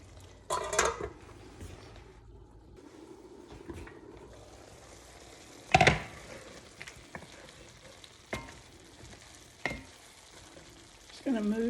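Hamburger meat and potatoes frying in a pot are stirred, with a soft steady sizzle broken by a few sharp scrapes and clanks of a utensil against the pot, one loud knock near the middle and a louder scrape at the end.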